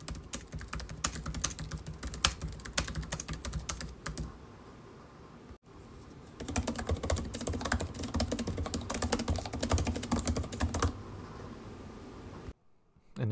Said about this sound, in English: I've recorded the following two clips so you can get a better idea of what both keyboards sound like.